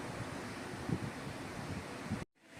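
Continuous loud wind buffeting a microphone with rumbling gusts, cutting out suddenly near the end.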